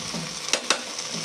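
Onion-tomato masala with spices fries in a pan with a steady loud sizzle, broken by two quick scraping strokes of a stirring spoon, close and without talk.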